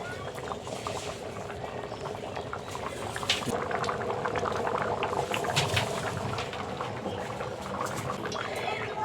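Ghugni, a Bengali-style spiced pea curry, bubbles at a steady rolling boil in a pot, a dense continuous burble of popping bubbles that holds close and even throughout, with no talk.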